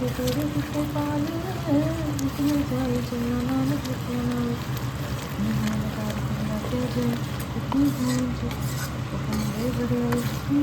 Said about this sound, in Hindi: तो यहाँ कढ़ाई रखी है मैंने, घी लिया है, अब कड़ा प्रसाद बनाऊँगी।